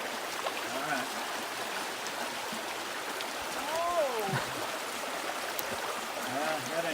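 Water of a stream rushing across a hiking trail crossing on the Ouachita National Recreation Trail, a steady broad wash close by, with people talking over it in the middle and near the end.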